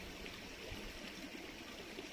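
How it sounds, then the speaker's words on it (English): Steady broadband rush of a mountain stream flowing near a spring, a continuous even wash of moving water with no voices. "The water, you see the water, the stream, it goes, the water goes from here."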